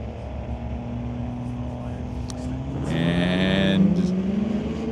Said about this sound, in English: And that diesel pickup moves along pretty swiftly there.